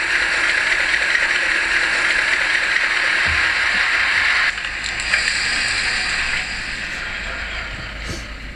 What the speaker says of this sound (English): let's just shut it down and see the shutdown sequence it has